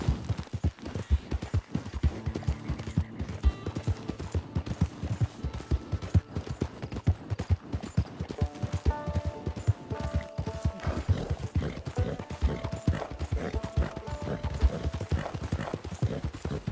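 Horse hooves clip-clop steadily in the video game Red Dead Online, a quick, continuous rhythm of close hoofbeats with game music and ambience underneath.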